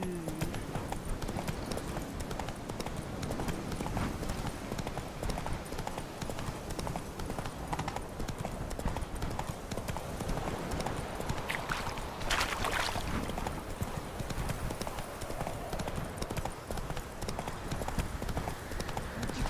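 Horse hooves clip-clop steadily throughout a ride in The Witcher 3 video game, a continuous rhythmic trotting at moderate volume with game ambience underneath and no talking.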